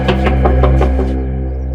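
Knocking on a house door in a crime drama, several sharp raps in quick succession, fairly loud and close, over a steady background music bed, with no talking.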